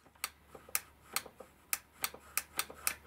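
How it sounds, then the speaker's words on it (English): Switch clicking inside an X-ACTO TeacherPro electric pencil sharpener with its cover open: eight or so sharp, quiet, close clicks at an uneven rhythm against near silence. "you can hear the switch clicking"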